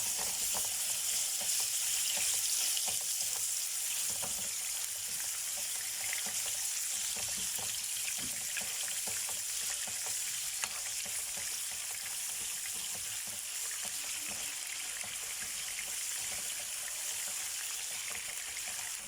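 Minced meat frying in a pan, a steady, fairly quiet sizzle and crackle that holds unbroken for the whole stretch, close at hand.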